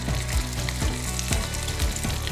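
Steady, loud sizzling of food frying in a hot pan, a continuous crackling hiss with faint low clunks recurring underneath.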